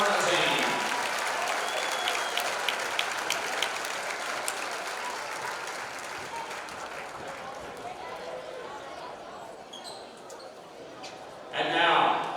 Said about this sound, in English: Another round of applause for the 2026 Varsity Boys All-Tournament team